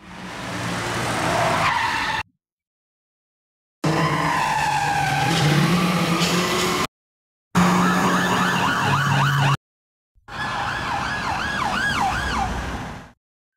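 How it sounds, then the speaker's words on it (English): Synthetic car chase effects: a high-speed pursuit with squealing tires and wailing police sirens, heard as four loud separate bursts broken by silent gaps. "high-speed pursuit with tires squeaking and police sirens."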